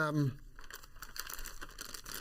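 A plastic packaging inlay from a wireless microphone kit is handled up close, giving soft crinkling and crackling for about two seconds after a brief voice at the start.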